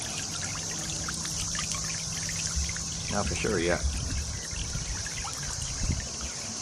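A solar birdbath fountain trickling water, a soft continuous splash and dribble close by, with insect buzzing in the background and someone speaking briefly partway through.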